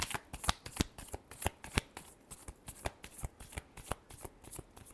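Tarot cards are shuffled by hand in a steady run of crisp riffling bursts, close and alone with no talking.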